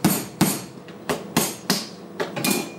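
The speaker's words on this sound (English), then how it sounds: "I'm actually just going to tap it pretty gentle because they are pretty brittle, these shells." The back of a knife taps brittle lobster shells in a series of about eight sharp, close knocks at an uneven pace, each with a short crackling ring-out and no voices.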